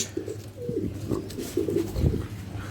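Several soft, low pigeon coos close by, repeating in short throaty phrases over faint background noise.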